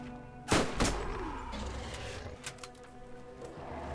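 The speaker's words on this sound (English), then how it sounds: "I think that may be the slowest firing SMG I've ever seen on this game" Slow-firing SMG in the video game Borderlands lets off a loud, sharp shot followed by a second one, then a few fainter thumps spaced well apart.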